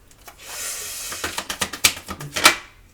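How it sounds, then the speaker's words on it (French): Tarot cards being shuffled by hand, a burst of crisp rapid riffling clicks that builds after a softer rustle, close and fairly loud, then fades out. "Je vais mélanger toutes les cartes encore une fois."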